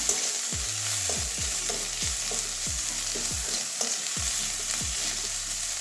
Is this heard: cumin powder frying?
yes